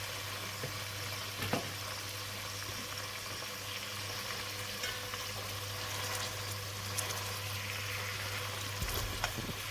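Brisket pressed into hot oil with spices fries with a steady, broadband hiss that holds evenly throughout, with a few brief clinks or scrapes near the start and end and no talk.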